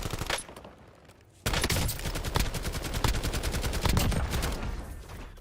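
Rapid bursts of automatic gunfire crackle in the Warzone video game, a quiet lull giving way to sustained dense rattling shots with sharp repeated cracks, loud and close, without speech.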